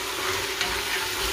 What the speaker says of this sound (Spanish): Voy a echar las alubias